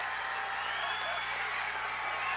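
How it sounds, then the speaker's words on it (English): A high school boys' basketball crowd in a gym cheers and roars continuously right after a late layup, a dense, loud wash of voices and applause that holds steady from start to finish. "this crowd's going bananas"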